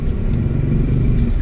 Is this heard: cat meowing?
no